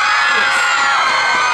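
A crowd at an outdoor summer carnival concert in Hualien screams and cheers loudly, a dense, sustained roar of high voices.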